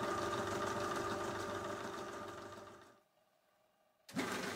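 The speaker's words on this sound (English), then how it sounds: "When idling, the machine draws an electrical power of around 225 watts." A VEVOR 250W electric pipe cleaner machine's motor idles with a steady mechanical hum and rattle, fades out and falls silent for about a second, then abruptly starts up again.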